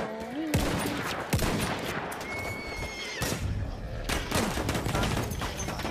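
In the Battlefield 1 video game, a horse whinnies loudly and repeatedly while dying amid rapid gunfire and scattered shots, the battle noise dense and continuous throughout with no clear talk.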